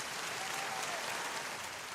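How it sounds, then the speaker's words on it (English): Steady, dense applause from a studio audience at a radio broadcast, a continuous even wash of many hands clapping with no voices. "can I have some applause for her?"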